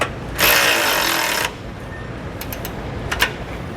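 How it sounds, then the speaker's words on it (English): A 5/8 socket wrench tightens a bolt on a car frame rail: a loud, harsh burst of about a second, then a few sharp metallic clicks nearby. "we're going to take a 5/8 socket wrench and we're going to tighten this bolt"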